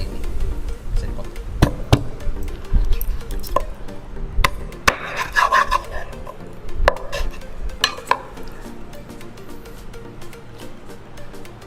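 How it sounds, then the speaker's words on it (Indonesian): A knife cuts a raw chicken thigh into two pieces on a board, giving sparse sharp knocks and thuds with soft scraping and handling in between, while a voice talks quietly. "lalu tinggal kalian potong di pertengahan bagian paha seperti ini"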